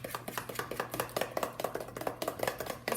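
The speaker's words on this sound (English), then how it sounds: "I'm going to stir that up until everything's incorporated" Hand stirring of wet ingredients for banana chocolate chip bars in a bowl, a quick irregular run of soft scraping and tapping strokes, close and fairly quiet, with no talk.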